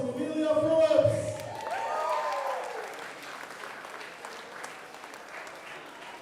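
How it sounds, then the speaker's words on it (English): Audience applause at a powerlifting team championship awards ceremony, loudest in the first couple of seconds and then fading into scattered claps, with a voice speaking over the start. "round of applause for all our ladies"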